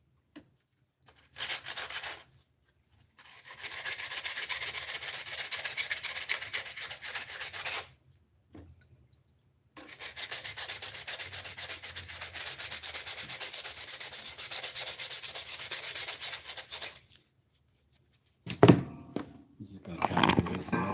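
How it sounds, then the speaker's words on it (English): An old rusty chisel being scrubbed by hand: repeated bursts of close, rough abrasive rubbing separated by pauses, ending with a few thunks and handling knocks. "Clean up this old chisel."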